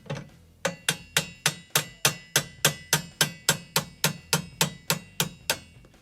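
A hammer strikes a metal punch about sixteen times in a quick, even rhythm, knocking out a roll pin from a Diamondback DB10 AR rifle, each sharp metallic tap close and distinct, with no talking.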